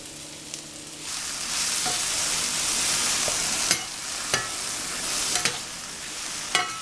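Mushrooms frying in cooking oil in a skillet over medium heat, with a steady close sizzle and a few sharp clicks of stirring, no talking.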